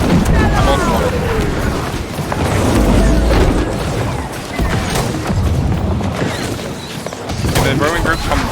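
Cannon and mortar fire during a siege battle at a keep wall in a video game. Deep booms and crashes repeat amid continuous battle din, with a voice talking over them.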